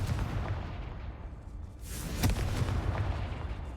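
A Confringo fire-spell blast in Hogwarts Legacy, a muffled rumbling boom with a sharp crack near the middle, set in a low, continuous game background.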